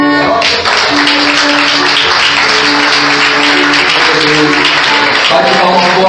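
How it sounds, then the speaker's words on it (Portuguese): Loud, continuous applause from a church congregation during a worship service, with musical tones ringing underneath for the full stretch. "Bate palmas fortes para Jesus"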